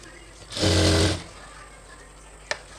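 A sewing machine stitches the lining of a jute bag in one loud burst of about half a second, followed by quiet and a single sharp click.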